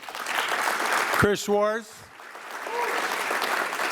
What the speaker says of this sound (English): How about another big round of applause for